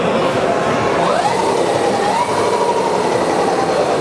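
A TS Bravo electric motorcycle runs with a loud, steady whirring drone, its pitch rising and then easing as it is revved, heard up close over a constant rushing background.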